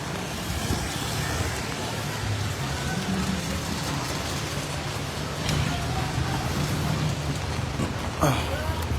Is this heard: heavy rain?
yes